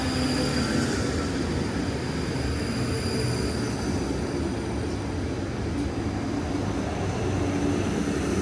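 A South Western Railway train arrives at Egham Station with a loud, steady rumble and rolling wheel noise that holds level throughout, a faint high whine on top.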